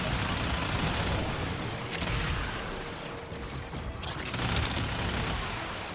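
Dense, continuous gunfire from the video game Warframe crackles in rapid, overlapping bursts with booms mixed in, loud and close throughout, while a voice talks underneath.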